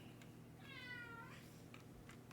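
A cat meows once in a drawn-out, wavering call, fairly close but soft, over a steady low background hum with a few faint clicks around it.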